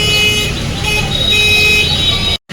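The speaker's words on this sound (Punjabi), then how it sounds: "ਗੱਡੀਆਂ ਦਾ ਜਾਮੇ ਲੱਗ ਗਿਆ ਇੱਥੇ ਤਾਂ" Vehicles stuck in a traffic jam on a rain-flooded road, with a steady roadway rumble and high horn-like tones sounding over it, loud and near, then cutting off abruptly near the end.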